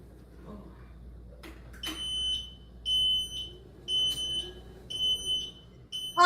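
Repeated high electronic beeps from a smoke alarm, four evenly spaced tones about a second each, with faint talk and a few knocks underneath.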